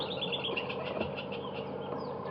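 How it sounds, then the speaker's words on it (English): A squirrel gives repeated sharp, chattering alarm calls outdoors, fairly close and steady, with no talking. "And this is a very cross squirrel."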